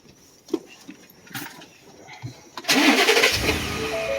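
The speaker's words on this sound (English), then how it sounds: "reset the cycle of the truck, start it back up, turn it off" A 2018 Ford F-150 pickup's engine cranks and catches after a few quiet clicks and knocks, then settles into a loud, steady running roar up close.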